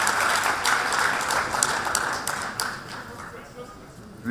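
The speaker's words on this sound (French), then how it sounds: "On l'applaudit quand même très très fort." Guests at a wedding reception applaud as a speech begins, a full round of clapping that starts strong and gradually thins and fades toward the end.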